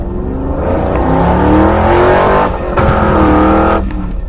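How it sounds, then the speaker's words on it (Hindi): Car engine revving loudly and accelerating as it approaches, with a tire squeal, in a horror story about a headless ghost; a steady roar that dips briefly near the middle, then surges again. "तभी वहाँ पर किसी की गाड़ी की आवाज सुनाई देने लगती है।"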